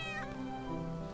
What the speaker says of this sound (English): Oh my God, it's a ghost cat.